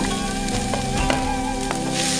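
Grated carrots tumble into onions already frying in a pan, raising a steady, close sizzle with a few soft clinks and stirring scrapes throughout, no voices.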